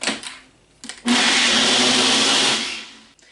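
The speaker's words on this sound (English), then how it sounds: "I'm going to go ahead and I'm going to blend this" A blender grinding almonds whirs up loudly after a couple of short bursts, grinding steadily for a couple of seconds before winding down.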